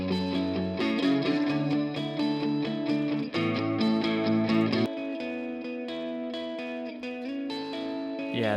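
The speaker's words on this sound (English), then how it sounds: "I had the reverb onto this track here, so I'll wait for it to come and we'll just listen to what I did there" Reverb on a mixed song track: sustained, echoing instrumental chords with a wide, washed-out tail, dense and layered at first, then thinning to quieter held notes.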